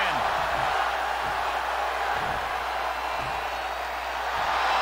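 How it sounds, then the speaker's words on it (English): A wrestling arena crowd in WWE 2K22 roars in a dense, steady wall of cheering, with low thumps and voices partly buried in the noise. "The sound of this crowd is deafening, and he's asking for more."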